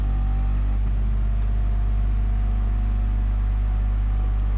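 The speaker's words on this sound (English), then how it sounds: "Fantastic noise of the engine there as well from the Bugatti." A Bugatti race car engine drones at Spa-Francorchamps during an endurance race, a steady loud low hum with a constant tonal rumble heard from on board, no talk over it.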